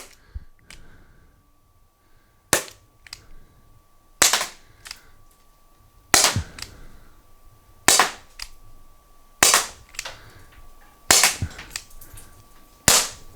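First Strike Roscoe foam-dart launcher fired double action at a record, eight sharp loud cracks at irregular intervals of roughly one to two seconds, each with a short mechanical rattle after it, in a quiet room.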